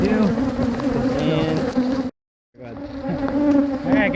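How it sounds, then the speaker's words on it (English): A dense swarm of Africanized honeybees hums loudly around an open hive, a close continuous buzz with individual bees whining past, broken by a short silent gap midway. "Because they're Africanized honeybees."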